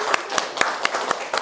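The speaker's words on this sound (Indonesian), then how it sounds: "Tepuk tangan dulu untuk Inda" A small group in a classroom session claps in a few sparse, evenly spaced claps over a faint background hum.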